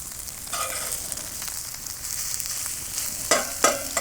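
Egg frying in a Lodge carbon steel skillet, a steady close sizzle running throughout, with a couple of sharper spits and pops near the end.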